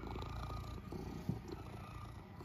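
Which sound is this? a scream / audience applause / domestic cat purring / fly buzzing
domestic cat purring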